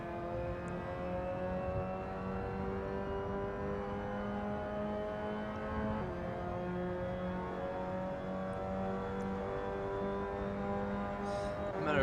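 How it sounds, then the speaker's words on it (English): Onboard a Mazda MX-5 race car lapping Brands Hatch, its engine droning loud and steady with a constant harmonic whine and slight pitch shifts through the corners, no pauses. "Let's get some onboard shots here from within this awesome Mazda MX-5 car."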